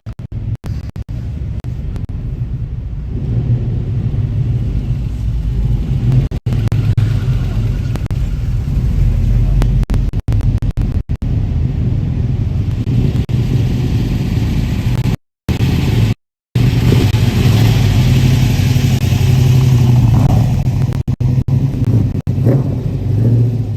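Cars drive and rev inside an auto show hall in Toronto, a loud continuous engine rumble with occasional rises in revs and brief dropouts.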